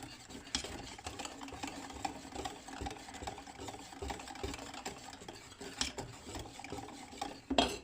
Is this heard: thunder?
no